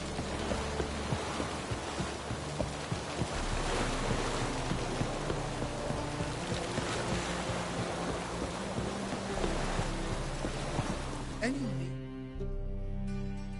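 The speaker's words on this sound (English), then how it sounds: "Looks like rain." Rain falls in a PS4 video game, a dense continuous hiss and patter that covers the whole stretch, with faint game sounds underneath before it cuts to quieter ambience near the end.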